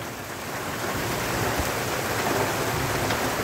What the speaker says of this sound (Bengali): প্রচণ্ড বৃষ্টি হচ্ছে, আকাশ অন্ধকার।